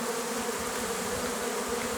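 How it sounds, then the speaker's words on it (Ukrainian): A steady, dense buzz of many honeybees flying in to the hive close by in the evening, a continuous drone with no voices. "Вечеріє, вже п'ята година, а бджола ось так злітається."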